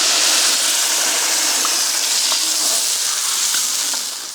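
Boiling water is poured into a pot of stir-fried beef seasoned with soy sauce, giving a loud, steady hissing sizzle and gush that tapers off at the end.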